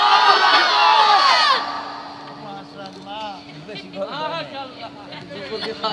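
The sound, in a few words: crowd chanting Allahu Akbar in response to takbir call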